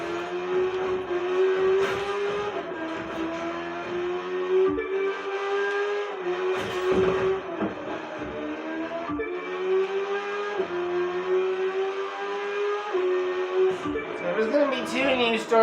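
Race car engine droning with a sustained, shifting pitch during a high-speed pursuit of a Porsche in The Crew 2, with brief tire and impact noises and a voice talking throughout.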